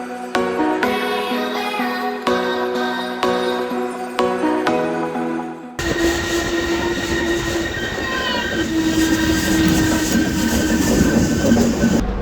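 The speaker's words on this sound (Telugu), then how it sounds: "సో మన ట్రైన్ బంగార్పేట్ జంక్షన్కి అయితే వచ్చేసింది." A Chennai Express passenger train pulls into Bangarpet Junction, its steady rolling rumble and rail noise filling the clip, with a sharp tonal change midway and high wheel squeal over continuous clatter of the carriages.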